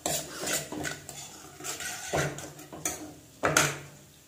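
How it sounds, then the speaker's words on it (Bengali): A spoon stirs chilli powder and spices in a pan for farrha, a traditional Bihar dish, producing close, quiet metallic scrapes and clinks in an uneven rhythm. "আর সেটাকে ভালো করে নেড়ে চেড়ে নেব।"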